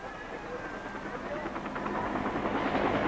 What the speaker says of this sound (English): Hour after hour, helicopters continued picking up loads of evacuees.